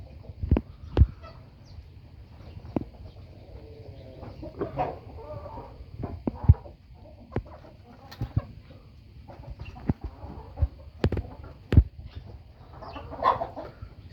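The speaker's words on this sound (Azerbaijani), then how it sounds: "Təmiz qan, Alman xətti, Australop cinsi toyuqların cücələri və yumurtaları satışdadır." German-line Australorp hens and chicks clucking in a farm yard, with scattered short clucks and sharp peeps rising over a steady low background hum throughout.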